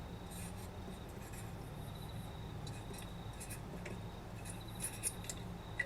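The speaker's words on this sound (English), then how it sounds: "I really appreciate the grasshopper sound, really, to fully fully extend the awkwardness." A grasshopper chirps in short, faint, repeated raspy bursts over a quiet background hiss, with no talk.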